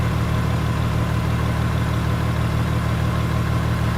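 A high-mileage Toyota engine with 530,000 miles idles steadily and loudly up close, a constant low rumble with no talking.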